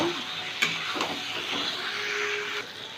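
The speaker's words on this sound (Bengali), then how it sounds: "ঝিঙেটাও দিয়ে দিচ্ছি দু মিনিট একটু নেড়ে চেড়ে নেব" Sliced ridge gourd being stirred in a hot pan, giving a steady sizzling hiss with a few soft scraping knocks of the spoon, close and fairly quiet.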